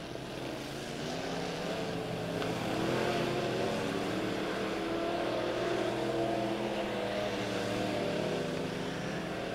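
Midwest Mods race cars racing at Lebanon Midway Speedway: a continuous loud engine roar from several cars, swelling and fading as they pass, with no talk.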